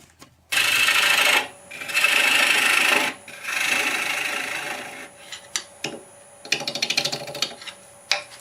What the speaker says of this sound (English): Time to resharpen.